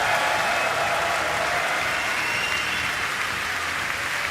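Steady, sustained applause from a large crowd greeting a player's introduction at the table tennis European Championships in Munich 2022, dense even clapping filling the hall throughout without a break.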